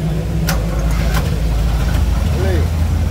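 A classic Dodge car idles at a classic-car meet in Rio de Janeiro, a steady, deep, close rumble that holds even throughout while people talk over it.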